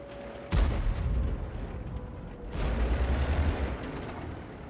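Cannon shots from tanks in a battle video game on the Lakeville map, with two heavy booms spaced a couple of seconds apart and a rumbling tail after each.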